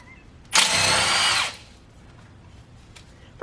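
A power tool removes a nut from the brake line bracket on a Toyota FJ Cruiser's front knuckle, one loud, close whirring burst of about a second that then stops abruptly, with no talking.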